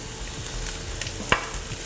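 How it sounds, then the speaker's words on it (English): Onion, four minced garlic cloves and fresh minced oregano sauté in olive oil for a taco filling, giving a steady close sizzle with soft stirring and one sharp utensil knock near the end. "So these are starting to get some good color, and I'm going to add the garlic and oregano."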